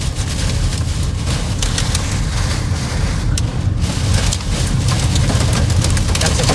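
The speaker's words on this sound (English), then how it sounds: "Got some hail working in here." Hail and heavy rain pelting a car during a storm chase near Lubbock, Texas, a loud dense drumming and hiss on the roof and glass that continues steadily throughout.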